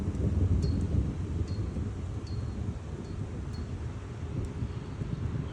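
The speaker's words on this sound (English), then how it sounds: "Wind is picking up." Steady wind roars and buffets close to the microphone as a tornado storm builds, a dense low rumble with gusts swelling and easing throughout, no voices.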